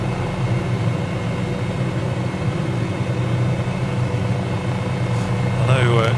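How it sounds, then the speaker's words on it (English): Helicopter in Microsoft Flight Simulator, a Cowan Simulation 500E, producing a steady droning engine and rotor hum throughout, with a brief voice near the end. "Let's get this helicopter under control."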